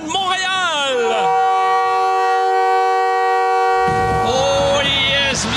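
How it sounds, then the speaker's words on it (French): Montreal Canadiens hockey goal horn blaring loud and sustained as a long steady multi-tone blast, with crowd noise and voices around its start and end. "la sirène de but des Canadiens de Montréal"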